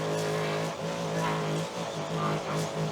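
A trophy truck's engine drones loudly at high revs while racing off-road, a sustained harmonic roar with brief dips between surges as the throttle is worked, heard from inside the cab.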